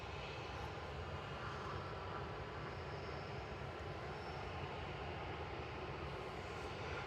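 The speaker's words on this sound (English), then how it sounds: "This is Ryanair about to take off to Cork" A Ryanair airliner at Manchester Airport prepares to take off, its jet engines a steady, distant broadband roar that holds constant throughout, with no voices.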